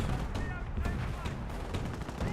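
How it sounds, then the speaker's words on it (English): An artillery barrage in Company of Heroes keeps firing and exploding as dense, overlapping booms and gunfire. A commentator is heard talking under the battle noise. "Looks like the barrage may have been just off."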